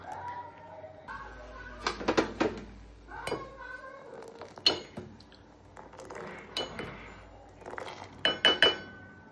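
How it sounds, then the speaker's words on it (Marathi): Tea boiling in a pot is stirred with a utensil, producing scattered light metallic clinks and scrapes in irregular bursts against a quiet kitchen background. "थोडा उकळलेला चहा आपण थोडा हलवायचा, म्हणजे काय होतं थोडा तो अजून छान उकळतो"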